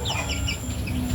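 Pet chickens clucking in a newly built backyard coop that doubles as their laying house, soft overlapping clucks close by over a low steady hum.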